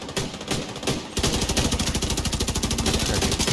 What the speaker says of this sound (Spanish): Disparos cercanos aquí a la izquierda.